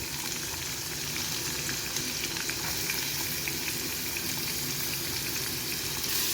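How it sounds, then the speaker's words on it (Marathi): Onion frying in a pan with asafoetida for a banana-flower stir-fry, a steady, dense sizzle that holds evenly loud throughout without any voices. "कांदा परतून घेऊया चांगला लाल होईपर्यंत"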